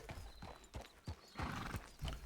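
A Morgan horse in Red Dead Redemption 2 gives a few close hoof clops on a dirt road along with a short whinny, the uneven steps spaced across a brief quiet stretch.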